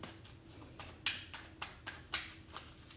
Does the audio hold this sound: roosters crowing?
no